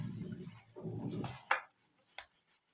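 Vegetables with fresh garlic, cardamom pods and cloves are lightly stirred in a pan for a potato, zucchini and meat tray bake. Two soft scraping strokes are heard up close, then a couple of sharp utensil clinks in a quiet kitchen.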